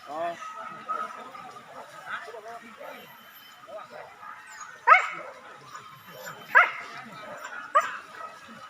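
A dog on a hunt barks, yips and whimpers off in the distance in scattered bursts, with faint voices murmuring nearby.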